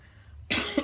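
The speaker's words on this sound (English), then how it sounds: "I still have the coughs" One sharp, close cough from a woman recovering from an illness, sudden and brief after a quiet room tone.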